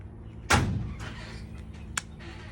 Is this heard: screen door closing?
yes